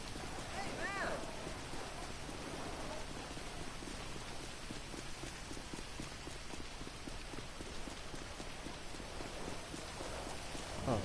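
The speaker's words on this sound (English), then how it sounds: "Ooh, rain." Steady rain patters on a surface throughout, a dense continuous hiss, while a voice speaks briefly near the start.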